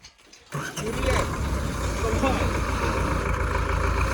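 An MTZ tractor diesel engine cranks and catches after a brief quiet moment, then settles into a loud, steady rumbling idle up close.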